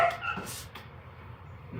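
A dog working a beaver lodge gives short barks and yips amid outdoor background noise, with a faint voice nearby.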